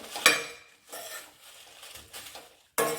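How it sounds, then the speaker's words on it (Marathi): Dry fenugreek leaves being roasted in a pan, heard as a few close, distinct bursts of scraping and clinking from stirring, separated by short quiet gaps, faint sizzle underneath. "थोडीशी कडक होईपर्यंत भाजून घ्यायची व्यवस्थित सुकी मेथी भाजायला थोडा वेळ लागतो"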